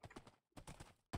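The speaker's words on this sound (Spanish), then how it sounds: "Un caballito." Horse hooves clip-clop in a video game, a quick run of close, soft rhythmic clops broken by a brief gap before a final heavier thud.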